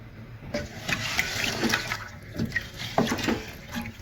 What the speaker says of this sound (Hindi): तकरीबन मैं 17 गिलास पानी डालूंगी, 17 गिलास, क्योंकि 10 गिलास चावल है